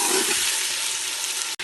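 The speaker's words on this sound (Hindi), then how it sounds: "तो यहाँ पे हमारा चिकन माशाल्लाह अच्छे से फ्राई हो रहा है।" Chicken frying in a pan for achari biryani, a dense steady sizzle close up with a soft stirring scrape, ending in a brief click and cutoff.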